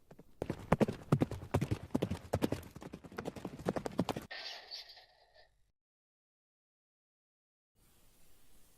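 Rapid jousting horse hooves clip-clop on a hard surface for about four seconds, then a brief rustle and silence.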